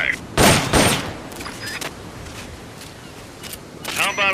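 Gunfire in Metal Gear Solid Peace Walker shooting practice: a couple of loud bursts near the start, then several sharper, lighter shots scattered through, with a voice talking underneath.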